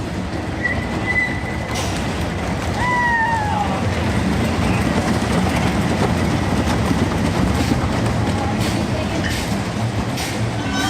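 A racer roller coaster train at Kings Dominion rumbles steadily along its track with loud, continuous roar and occasional high wheel squeals, heard close by.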